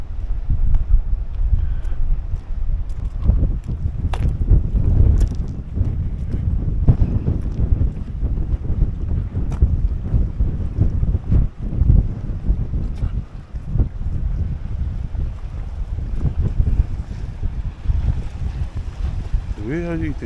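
Strong wind buffets the microphone at a fishing port, producing a loud, continuous low rumble with gusty surges and occasional knocks, and no other clear sounds standing out.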